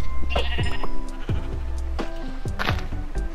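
Sheep in the Minecraft video game bleat several times in quick succession, clear and close, with short wavering calls over a soft background tone.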